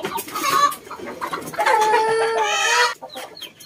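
A Japanese Shamo hen clucks loudly and close by, a run of throaty, drawn-out clucks with a brief pause near the end.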